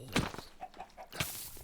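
Video game chicken jockey, a chicken mob clucking in short bursts with a couple of soft thunks, moderately close and without talk.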